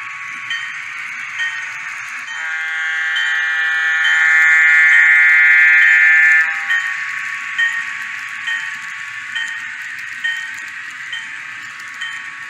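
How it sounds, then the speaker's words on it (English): Horn of an N scale model train on a Pennsylvania-style catenary layout, a loud steady electronic tone held for several seconds, with shorter repeated blasts before and after and no talk. "I really like the sound of that horn."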